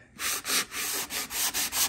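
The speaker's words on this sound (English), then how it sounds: "So I got some sanding blocks here" Steady back-and-forth rasp of a sanding block scrubbing wood filler on stairs, close up, in several even strokes with brief pauses between them.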